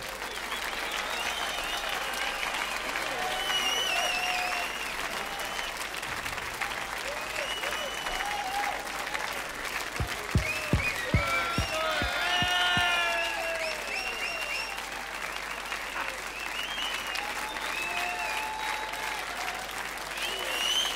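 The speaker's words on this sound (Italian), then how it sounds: "Ancora un applauso." Audience applause for a band at a live concert, a sustained wash of clapping from a large crowd that holds steady throughout, with a few brief low thumps and some faint voices mixed in.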